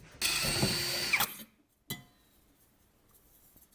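A drill bores a small pilot hole at a center-punched mark in metal for a homemade stove, giving over a second of loud grinding whir, then a short clunk and quiet.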